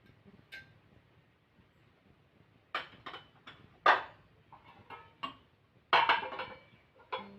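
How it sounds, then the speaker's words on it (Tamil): Mustard seeds splutter in hot oil for a Sorakkai kuzhambu: a quiet pan gives scattered sharp pops and crackles, sparse at first and then more frequent, close by with no talk. "கடுகு பொரியுதுங்க"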